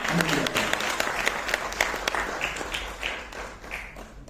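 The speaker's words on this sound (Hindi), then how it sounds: "एक बार जोरदार तालियों के साथ उनका स्वागत करते हैं।" Audience applause greeting a speaker coming on stage at a festival event at IIT Kanpur, a dense steady wash of many hands clapping at close range that tapers slightly toward the end, with some voices mixed in.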